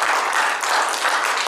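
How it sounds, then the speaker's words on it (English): A church congregation claps hands in praise, a dense, steady burst of applause filling the room throughout with no break. "Give him a hand clap."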